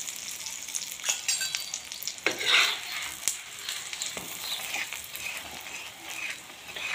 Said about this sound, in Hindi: अच्छे से घी डालना है पूरा पराठा, बहुत ही बढ़िया सेकना है घी के अंदर हम बढ़िया सा।